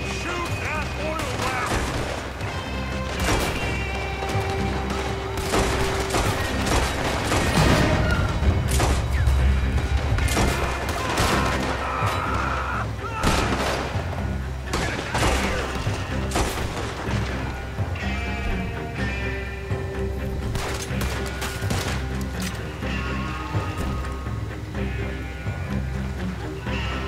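A shootout in the Red Dead Redemption 2 video game brings repeated gunshots and crackling volleys amid loud game sound, spread over nearly half a minute, with voices talking at times.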